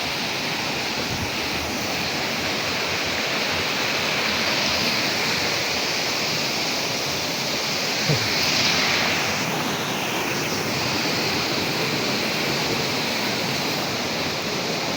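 Constant roaring rush of the Curug Lawe waterfall near Ungaran, loud and unbroken for the whole stretch, with no talking.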